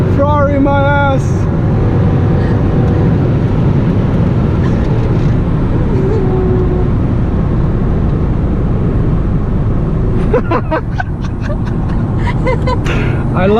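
A Mercedes-Benz CLS AMG engine roars steadily and loudly while racing a Ferrari F430, with a voice breaking through over the noise in places.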